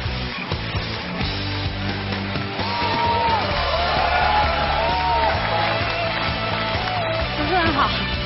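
Studio audience on a Chinese dating confession show cheering and whooping for the next confessor, a steady crowd roar with music underneath.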